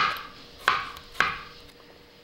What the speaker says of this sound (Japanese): きゅうりは好きな形に切ってください。